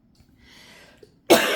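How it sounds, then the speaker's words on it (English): A single sharp cough bursts out near the end after near silence, loud and close. "I apologize for coughing"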